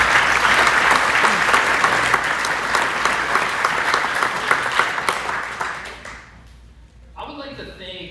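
Loud, sustained applause from an audience at a high school athletic booster club hall of fame event, dense clapping filling the room for about six seconds before fading, then a voice begins talking.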